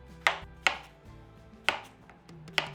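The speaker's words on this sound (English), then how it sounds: "Slice your cucumber lengthwise and then cut it into crescents." A knife slicing cucumber into crescents on a board for a tomato salad, four sharp crisp chops spaced irregularly, close and clear over soft background music.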